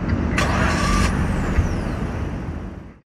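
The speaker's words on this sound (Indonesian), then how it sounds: "di Grand Vitara ini pas kita starter mobilnya" A Suzuki Grand Vitara's engine cranks and catches with a rough, loud burst, a brief high whine over it, then settles before cutting off abruptly after about three seconds.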